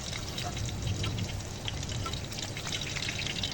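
Chicken pakodi pieces fry in hot oil over low to medium flame, a dense, even crackle and bubbling sizzle that fills the whole short stretch without a break.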